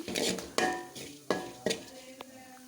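Grated coconut, curry leaves and shallots roast in a hot pan, with a few distinct scraping stirs and clatters standing out over a low, steady sizzle, close and alone.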